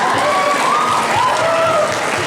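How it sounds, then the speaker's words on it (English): Audience at a Diwali celebration applauding a vocal performer, a close, loud, dense burst of clapping with some cheering mixed in, holding steady throughout. "Please give him a big round of applause."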